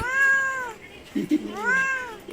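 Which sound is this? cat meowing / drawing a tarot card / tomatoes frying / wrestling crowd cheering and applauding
cat meowing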